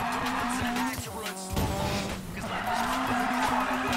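A car engine revs hard on an uphill climb in the racing game Need for Speed Payback, with tire squeal and skidding over a loud, continuous engine drone that dips briefly mid-way.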